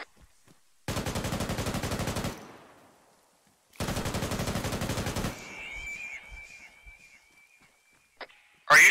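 Two long, loud bursts of automatic gunfire in a Chernobyl horror game, each lasting over a second with rapid even shots, separated by quiet, followed by a thin ringing tone and a sharp sound at the end.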